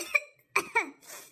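A person gives three short, close coughs in quick succession, then a breathy exhale in a quiet room.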